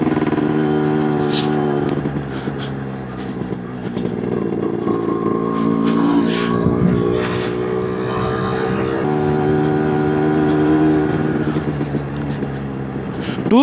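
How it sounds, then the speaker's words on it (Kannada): A 1990s Yamaha RXZ two-stroke motorcycle runs under its rider, its engine loud and close with a steady buzzing drone and slight shifts in pitch throughout. "ನಮ್ಮ ಪಡ್ಡೆ ಹುಡುಗರ ಡ್ರೀಮ್ ಬೈಕು RXZ ಓಡಿಸ್ತಾ ಇದ್ದೀನಿ ನಾನಿವತ್ತು. 90s ಗಾಡಿ ಗುರು, ಏನು ಸೌಂಡು."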